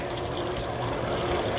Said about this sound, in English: You can kind of see water flowing